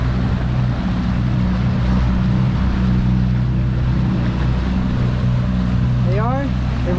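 Twin Suzuki 250 outboard motors drive a 26-foot center console boat cruising on plane at about 30 mph, a steady loud engine drone mixed with wind and water rush throughout.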